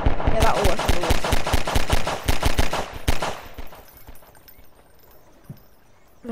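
A gun in Garry's Mod fires underwater in a rapid, loud burst of evenly spaced shots for about three seconds, then trails off into quiet bubbling and faint noises.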